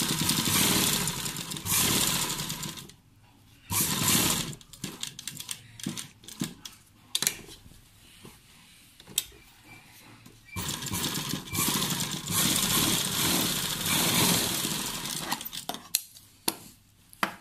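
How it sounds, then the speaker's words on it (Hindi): A sewing machine stitching a shirt collar runs in several bursts, a long whirring run at the start, short stop-start spurts in the middle, then another long steady run, with quiet pauses between. "और इसे अब हम ऐसे रखेंगे इसके ऊपर और इसे सिल देंगे।"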